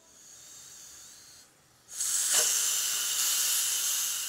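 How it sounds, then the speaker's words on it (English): Steam hisses loudly out of a pressure cooker's vent, first a softer release, then a brief pause before a strong, steady, close rush of hissing that continues. "Once the steam's out, then we're going to try to open it."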